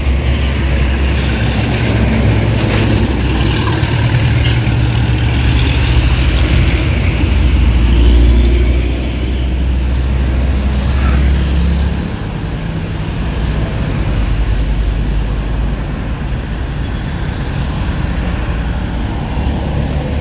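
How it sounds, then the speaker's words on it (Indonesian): A bus pulling into a roadside rest area in West Sumatra, Indonesia, its deep engine rumble loud and close, easing down partway through as it settles, with traffic and open-air ambience around it and no talk. "sepertinya ada masuk satu unit lagi bus"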